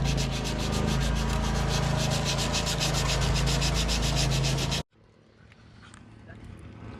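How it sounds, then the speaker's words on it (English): Sanding Bondo body filler on a Honda Civic Si for rust repair, a loud steady rhythmic rasping that runs continuously for nearly five seconds, then cuts off abruptly to quiet room noise. "I'm gonna sand this down a little bit, make it flush"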